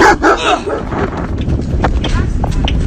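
A dog yips and barks in short bursts amid busy background noise, with someone talking over it.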